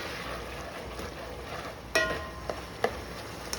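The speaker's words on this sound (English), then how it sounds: "That's frying, right?" Beef and vegetable stir fry with onions, garlic and ginger frying in a pan, a steady low sizzle broken by a few sharp clinks and scrapes of a utensil.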